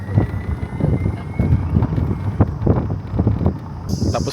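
Strong wind gusting outdoors in the UAE desert on a cold day, loud buffeting against the microphone in uneven surges, with a brief higher whine near the end.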